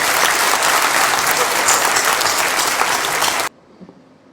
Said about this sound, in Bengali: সবাই তাদের জন্য একটু জোরে হাততালি দিই সবার জন্য